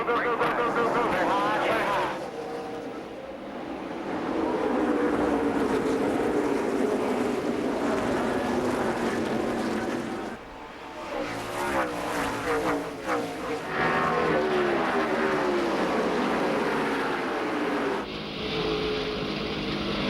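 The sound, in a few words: race cars taking green flag, Kroger 200 at IRP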